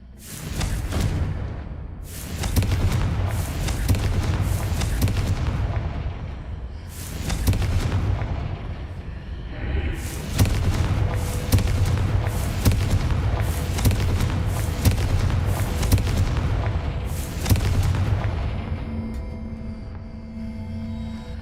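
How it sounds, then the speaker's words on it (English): Confringo fire spell explosions from the Hogwarts Legacy video game, a series of loud, deep booms bursting one after another over about twenty seconds, each followed by a crackling rumble that fades. "Confringo."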